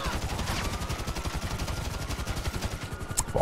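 Rapid automatic gunfire in GTA V Online, a continuous stream of quick shots emptying a whole magazine, loud and rhythmic for several seconds without talk.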